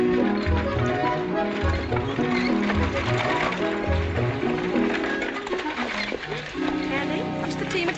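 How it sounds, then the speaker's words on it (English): Horse hooves clip-clop steadily beneath loud music and people talking, the rhythmic clopping running throughout. "Team will take care of Mr. Danning's horse."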